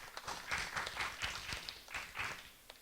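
Scattered applause from an audience at the opening ceremony of the Matra Kriya Fest 2020 craft festival, faint and somewhat distant, in a few uneven waves of clapping over nearly three seconds.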